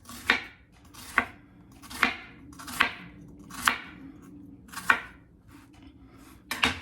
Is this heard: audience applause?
no